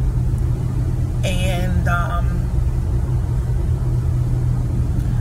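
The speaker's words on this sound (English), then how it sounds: "I'm really enjoying driving this Ford Transit" A Ford Transit van is driven, its low engine rumble and road noise steady and close throughout, with a brief spoken word partway in.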